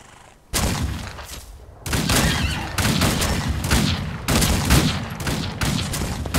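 Gunfire in the Outlaws of the Old West video game: a dense fusillade of shots at bandits, loud and close, starting after a brief quiet and continuing in sustained rapid bursts with no talking.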